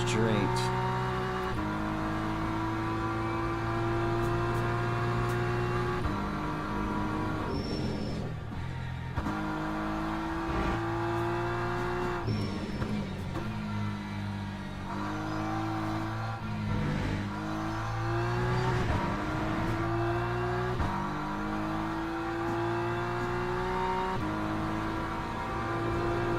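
A race car engine in the Le Mans video game screams up through the gears along the straight, loud and continuous, with steady revving climbs and quick drops at each shift, and a voice talking over it at times.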